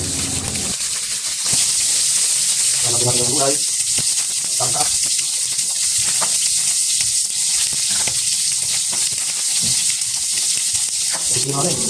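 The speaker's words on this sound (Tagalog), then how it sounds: "Ngayon po ay pinirito na po ang isda" Fish frying in a pan of hot oil gives a loud, steady sizzle and crackle with a few louder pops and stirring sounds. A voice speaks briefly over it.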